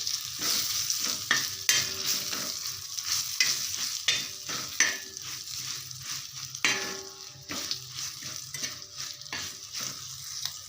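Green chillies fry with turmeric, cumin and coriander powder in a pan, stirred with repeated scraping strokes and clinks over a soft continuous sizzle, close and fairly quiet.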